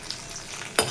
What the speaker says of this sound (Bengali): মাখনা ভাজা চলছে